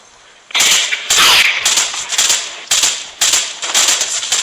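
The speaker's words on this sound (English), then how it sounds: "Gunshots." Gunfire in a battle royale shooter video game: a string of about seven sharp, crackling shots in uneven bursts, fairly loud and close, with no voices over them.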